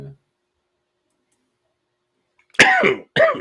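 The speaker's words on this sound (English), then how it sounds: "Sorry about the coughing." Two sharp coughs close by after a long silence, the first harsher and longer, the second following quickly.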